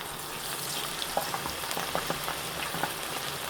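Chicken and vegetable pakoras frying in oil over low heat: a steady close bubbling sizzle with scattered small pops and crackles, continuous and even throughout.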